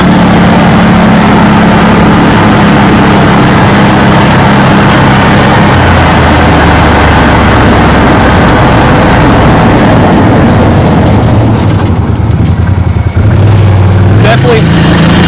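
A Massimo Militia UTV engine running as the vehicle drives along a dead-end road, a loud, steady, low motor drone throughout that eases off near the end as it slows under engine braking.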